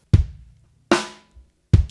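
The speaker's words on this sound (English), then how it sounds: "We're gonna put the snare drum, or your clapping, on beats 2 and beats 4." Three sharp drum hits spaced evenly: a deep kick, then a bright crashing snare, then another kick, each ringing out briefly with silence between.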